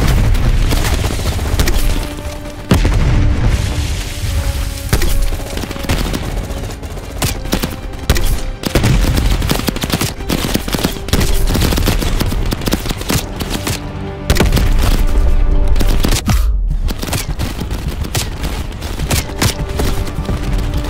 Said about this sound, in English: you woke up in the middle of a firefight